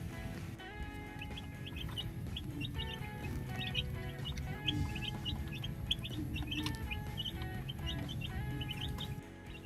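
Chicks chirping in a poultry pen: a dense, continuous chorus of high peeping calls repeating rapidly throughout, with a low background hum underneath and no talking.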